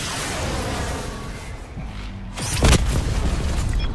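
A Hellstorm missile strike explodes in Call of Duty Black Ops 4, a single loud boom with a sharp rushing burst rising over steady, dense battlefield noise.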